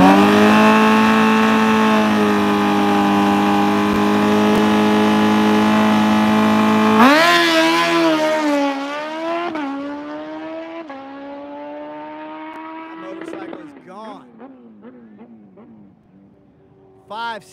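Harley-Davidson drag racing motorcycles roar at full throttle in a long, steady, rising howl, then fade into the distance as more engines rev and crackle farther off, with a voice talking over the noise.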